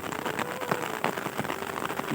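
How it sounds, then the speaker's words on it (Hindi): Heavy rain pours steadily in a village in Punjab, Pakistan, a dense, continuous hiss of drops striking surfaces close by, with no voices over it. "बारिश बहुत तेज़ हुई पई है क्या बात है"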